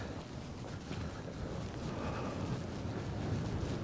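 Cold wind blows outdoors, buffeting the microphone with a steady low rumble and broadband rush that holds at a constant level, with no other clear sounds.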